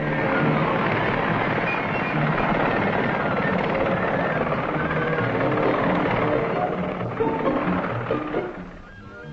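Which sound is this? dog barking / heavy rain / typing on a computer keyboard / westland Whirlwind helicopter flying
westland Whirlwind helicopter flying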